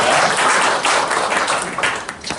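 An audience claps together, a dense, steady burst of applause that holds strong through the moment and then thins a little toward the end, with no voices over it.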